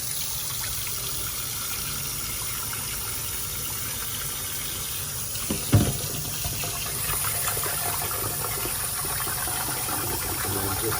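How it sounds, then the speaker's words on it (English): Uncooked rice being rinsed and swirled in water before cooking in a Zojirushi NS-ZCC10 rice cooker, a steady wet sloshing and trickle with one brief splash midway, close and alone. "I just rinse them out like this, or just kind of move them around in some water"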